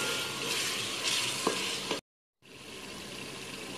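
Eggplant sauce simmering in a pot while a spoon stirs through it, a steady bubbling sizzle with scraping strokes and a couple of soft knocks, close up, broken by a short gap of silence before the simmer resumes.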